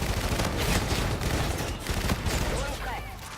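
Rapid bursts of gunfire from a Call of Duty: Infinite Warfare match rattle on continuously and loud, with a voice speaking briefly under the shooting.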